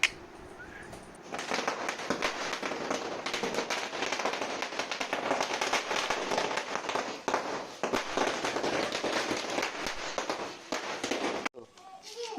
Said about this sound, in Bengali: হয়ে গেল বাজি ফোটানো